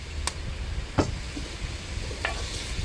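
Green beans sautéing in a pan with a squirt of hoisin sauce: a steady, low sizzling hiss broken by a few sharp clicks of stirring.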